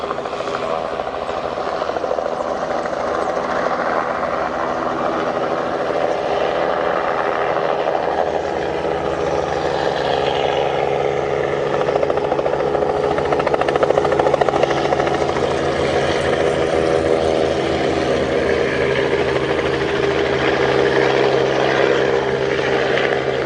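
Helicopters pass very low overhead above a rhino dehorning operation, their steady rotor thump and engine roar loud and continuous throughout, swelling slightly as they draw near.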